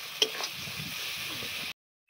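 Coconut and poppy seed paste frying with spices in oil: a steady soft sizzle with a light clatter of stirring near the start, cutting off abruptly.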